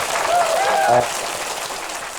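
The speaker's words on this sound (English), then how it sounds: "let's give him a clap" Crowd applause for Bronny James, honored with LeBron as the first father-son duo to play together in the NBA; steady clapping fills the room, with a brief whistle-like tone early on and a raised voice over the start.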